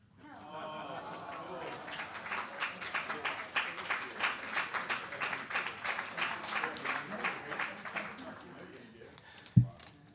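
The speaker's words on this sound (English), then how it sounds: "Let's give a round of applause" An audience at a literary tribute event claps together. The applause swells into a run of distinct, rhythmic claps, then fades near the end, where one sharp knock stands out.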